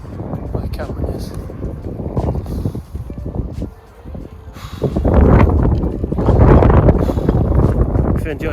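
Strong wind buffets the microphone in darkness near the North Sea, a steady roaring rush that swells louder in the second half, with a voice speaking briefly under the gusts.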